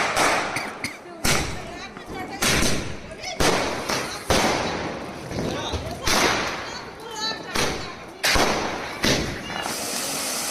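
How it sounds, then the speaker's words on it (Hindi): Rapid, irregular bursts of Diwali firecrackers popping and cracking in quick succession in a residential colony, loud and fairly near, with crowd noise mixed in throughout. "कॉलोनी में बहुत सारे लोग पटाखे वगैरह जला रहे थे।"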